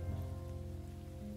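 Steady rain falling on a surface in the video game Behind the Frame, a continuous even wash of drops with low rumbling texture, moderately loud and with no voices throughout.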